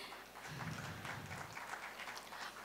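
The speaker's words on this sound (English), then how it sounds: "let's have another round of applause for them" Audience at a literature festival session applauding authors Preeti Shenoy and Ravinder Singh: soft, somewhat distant clapping from a crowd, steady and even across a few seconds.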